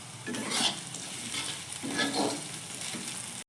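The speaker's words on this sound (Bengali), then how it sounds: "এবার পেঁয়াজ কুচিটাকে আমি ভালো করে ভেজে নেব।" Chopped onion fries in hot oil for a fish-head cabbage curry, a steady close sizzle with two louder swells of stirring, no voices.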